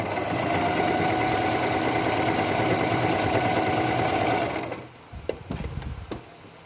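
A sewing machine runs a straight stitch on a halter-neck top with a steady close motor whir and needle rattle for about four and a half seconds, then stops, leaving a few soft clicks and handling noises.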